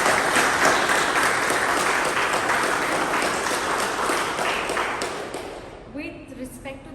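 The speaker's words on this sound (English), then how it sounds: "round of applause" Audience at a Toastmasters club meeting applauds with dense, steady clapping that fills most of the stretch, then thins and fades out near the end.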